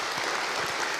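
An audience bursts into dense, steady clapping that fills the whole moment, a continuous crowd applause with no voices standing out.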